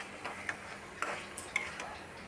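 Potatoes for vegetarian aloo dum being stirred and fried in a pan, faint scraping ticks and light sizzling in short repeated strokes, quiet and close with no talk.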